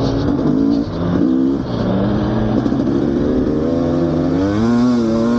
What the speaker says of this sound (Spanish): Me voy a meter, creo que un rato, en el circuito de cross con la de dos tiempos.